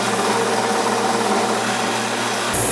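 A sanding machine works the edges of a cabinet door pressed against the sanding surface by hand, giving a loud, steady whirring hiss that shifts in tone near the end.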